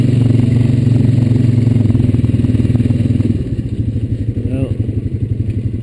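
Honda Rancher 420 ATV engine droning steadily as it climbs a trail hill, loud and close, the low hum shifting partway through into a choppier, pulsing rumble with some clatter.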